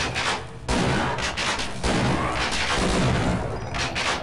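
Repeated gunfire strikes the player in Half-Life: Blue Shift, a dense, loud run of shots and impacts filling the moment with only brief breaks between bursts.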